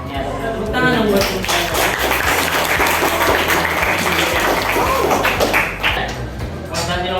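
Classroom applause during a history lesson, a steady wash of many hands clapping together that fills the whole stretch, with speech faintly mixed in beneath it.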